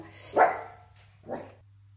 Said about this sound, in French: Pardon pour les grognements de ma louloute.